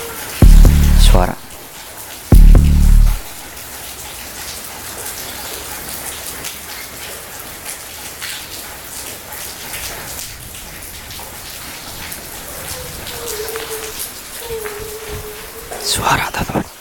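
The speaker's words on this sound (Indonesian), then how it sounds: "Suasananya semakin mencekam karena kondisi di tengah malam yang hujan." Rain falls at night as a steady wash of drops on surfaces, continuous and moderately loud, with a couple of heavy thumps near the start and a brief voice near the end.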